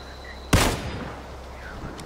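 A single sharp sniper rifle shot from the PUBG video game cracks out loud and close, followed by a brief fading tail.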